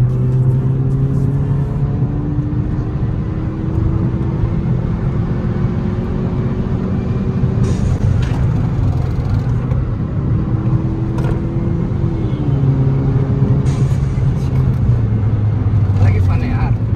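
A Skoda Octavia vRS engine drones steadily at roughly 70–100 km/h, a loud continuous interior rumble with rising and falling tonal whine as the car accelerates, running unbroken throughout.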